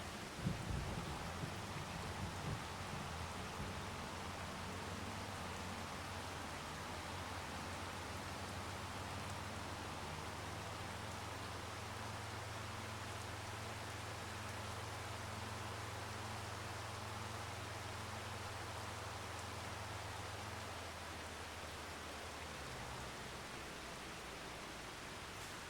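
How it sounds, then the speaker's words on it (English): Steady rain in Farming Simulator 25 hisses as a broad, even wash, with a low droning hum underneath for most of the stretch, continuous and unbroken with no voices. "I'm going to get us out of this rain first"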